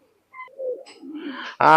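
A high flyer pigeon, one of a pair of red-marked birds, gives a short, soft coo nearby, ending in a sudden louder call.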